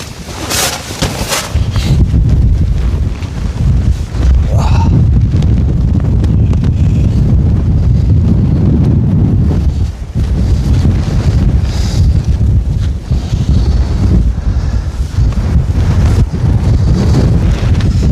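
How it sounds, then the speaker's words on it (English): Loud, constant wind buffets the microphone at a winter summit campsite in a deep roaring rumble that barely lets up, with gusts rising and falling and no voices. "It's getting a bit windy now."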